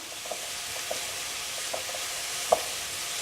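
Paste cooks in a pan for a vegan Albanian lentil dish, giving a broad, steady sizzle with a few faint clicks and a brief sharper tap near the end, and no voices.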